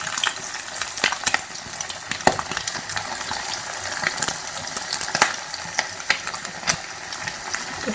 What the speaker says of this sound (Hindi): अब हम इसको फ्राई करेंगे।